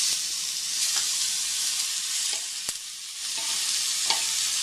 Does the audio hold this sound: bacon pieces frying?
yes